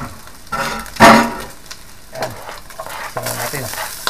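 Garlic fries in a pan with a soft sizzle and a few close stirring scrapes, one louder clatter near the start, all under a quiet room hum without talk.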